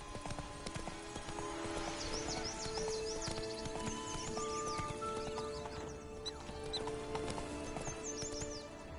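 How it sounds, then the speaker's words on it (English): Horse hooves clip-clopping steadily in a PS4 video game, with game music and occasional whinnies; no talk heard. "Run, Roach"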